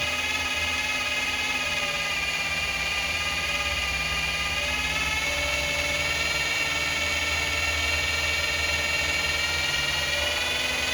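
A Gen 5 454 Mark V marine engine with an oil pressure loss turns over on the starter, a steady whirring hum with a high whine that holds evenly throughout, up close and loud.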